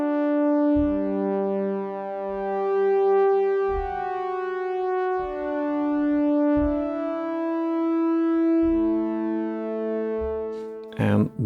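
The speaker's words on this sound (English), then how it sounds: "it's the UAD Polymax synthesizer" Sustained UAD Polymax synthesizer pad chords swell in slowly and hang with a long reverberant tail, changing every couple of seconds, alone without voices.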